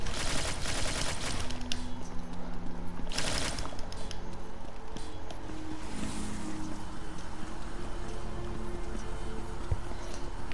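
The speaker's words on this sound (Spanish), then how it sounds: "Una pluma de poder. Es como una ametralladora que se suena." A power feather fires in God of War, a rapid machine-gun-like stream of shots that runs loud and constant, with a few sharper bursts near the start.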